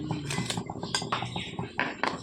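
Metal spoon stirring and scraping inside a metal pot, with a run of irregular clinks and knocks close up, no voices.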